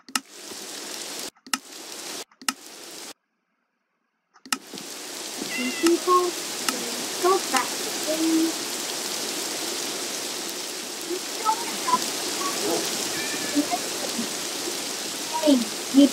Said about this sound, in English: I hate this raining sound.